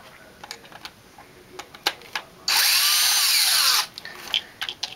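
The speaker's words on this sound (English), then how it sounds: "You have to remove two screws." Power driver spinning out two screws from a wet pickup handle: a single loud, steady whir lasting just over a second, framed by scattered small clicks and handling taps.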